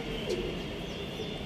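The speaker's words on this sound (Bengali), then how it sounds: "কত সুন্দর ব্রিডার নট দেখুন পায়রা" Pigeons cooing inside a loft, with a soft low coo heard briefly over a steady background hum and no speech.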